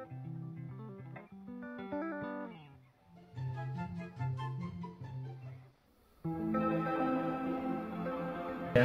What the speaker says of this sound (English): That sounds literally like a fucking chorus pedal.